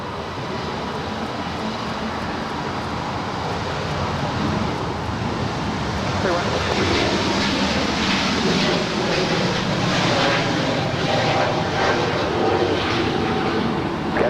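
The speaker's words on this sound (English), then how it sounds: "This is Volaris 913 departing to Guadalajara. It's a 4-year-old Airbus A320 Neo." A four-year-old Volaris Airbus A320neo departs LAX, its jet engines building into a loud, steady roar with a broad whooshing rumble that swells and holds close by.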